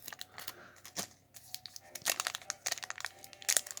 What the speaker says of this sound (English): My scissors are a little bit dull.